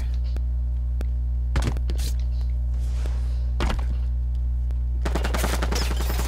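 Gunfire in Halo 5 Warzone, two short loud bursts of shots a couple of seconds apart, then a denser crackle of rapid fire near the end, over a steady low game hum.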